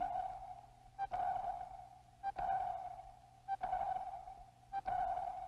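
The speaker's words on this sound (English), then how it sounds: "Sonar, ASDIC as the British call it, sends a sound wave into the depths, searching for a return echo from the enemy." Naval ASDIC sonar pings sound repeatedly while a WWII Atlantic convoy escort hunts for submarines, a clear ringing tone recurring about every 1.2 seconds, each ping sharp at the start and fading out, with no talk.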